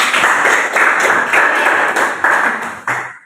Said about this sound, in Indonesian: Beri tepuk tangan untuk Maria